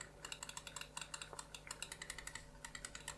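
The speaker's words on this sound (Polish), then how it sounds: "ten przycisk tutaj działa mięciutko, ma średni klik i dość niski skok" Quiet, close clicks of a Roccat Kone XP Air wireless mouse's buttons repeat rapidly and steadily, a long run of light plastic taps with no talking.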